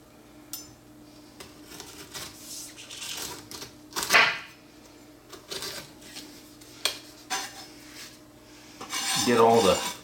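A sharp knife trims the tough skin off a pineapple, giving intermittent scraping, rasping strokes close up, with a longer, louder cutting burst at the end.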